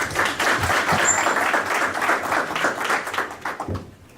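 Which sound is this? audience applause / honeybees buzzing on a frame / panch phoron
audience applause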